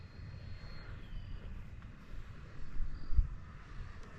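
An FMS F-86 model jet flies on its maiden flight, a faint, steady electric-fan whine and rush that swells slightly as it passes, distant and without voices.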